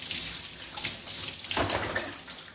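Warm running water splashes steadily while natural hair is washed, a close, continuous hiss with occasional heavier gushes.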